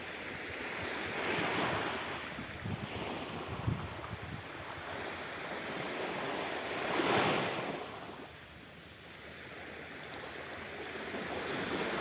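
Steady surf rolls and washes in at a shoreline in Dikili, Turkey, with waves swelling and receding over constant wind rumble; no voices, a calm, continuous seaside roar.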